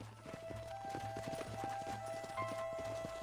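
Horse hooves clip-clopping in the Red Dead Redemption video game: a steady, rhythmic run of hoofbeats throughout, fairly close, over a constant tonal game background.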